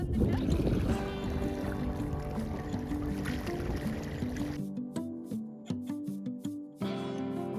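A boat crosses open water to an island fort, with a steady motor drone and tonal hum, light water wash and occasional faint knocks, heard up close throughout.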